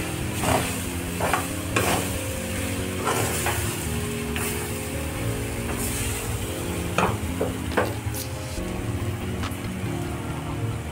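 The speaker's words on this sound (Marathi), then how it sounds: "फ्राय करून घेणार आहोत।" Puffed rice fries in a pan for Sushila, a Marathwada snack, giving a continuous crackling sizzle broken by repeated scraping stirs of a spatula, close and fairly loud, with no voices.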